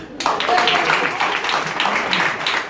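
An audience at a campsite show at Lac des Varennes applauds, a steady wash of clapping that carries on under a voice talking over it.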